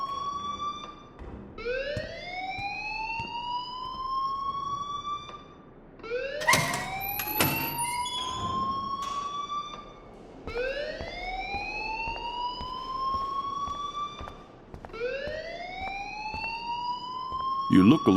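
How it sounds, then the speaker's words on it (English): A rising electronic alarm wails repeatedly inside the Life Is Strange video game, each sweep climbing and sustaining before restarting in a steady cycle, loud and continuous, with brief clattering bursts in between. "please turn off that alarm since that's your job"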